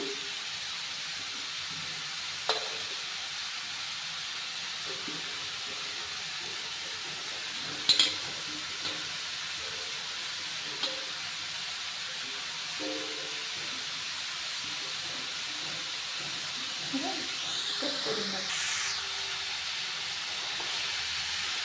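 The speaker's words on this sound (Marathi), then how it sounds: "आणि आता गॅस कमी करून आपण हे पीस छान परतून घ्यायचं आहे तुपामध्ये" Grated carrot sautéing in ghee over low heat for traditional gajar halwa, a steady soft hiss running the whole time with a few faint scrapes and clicks scattered through it, no voices.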